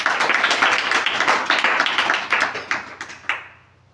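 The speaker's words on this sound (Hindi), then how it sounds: "क्या बात है, तालियां" An audience at a children's general-knowledge quiz contest bursts into brisk clapping, loud and close, with individual claps standing out before it thins and fades to silence near the end.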